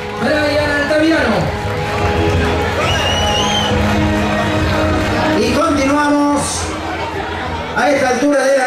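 A crowd at an evening awards ceremony cheers and chatters loudly and steadily, with a voice and music over the noise.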